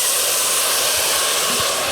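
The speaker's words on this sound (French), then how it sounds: "Déglacer avec le vin blanc." A pan deglazed with white wine while cooking risotto gives off a loud, continuous broadband hiss of sizzling and steam that runs steadily throughout, with no talking.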